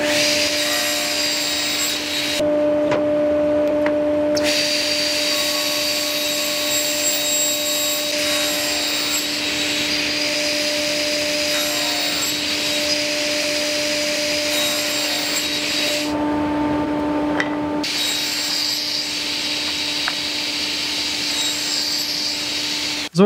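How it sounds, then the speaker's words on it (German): A sliding table saw runs with a loud, steady whine while cutting small wood pieces for a wine holder, and the motor tone dips briefly twice during the cuts. "Das werde ich mir jetzt hier an der Formatkreissäge zurechtsägen."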